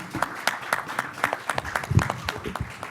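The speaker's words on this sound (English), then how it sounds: "applause for that" A small conference audience at a cybersecurity panel gives a sparse round of applause, a handful of distinct claps spaced out over a few seconds, moderately near, with faint murmuring underneath.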